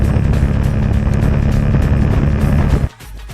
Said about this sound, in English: That is the actual waves generated by this motorcycle's engine.